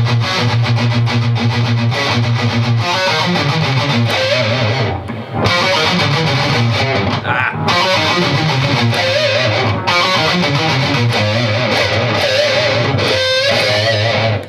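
Electric guitar with distortion and effects plays a section of a song, a loud, continuous rock riff with sliding lead lines and only brief dips.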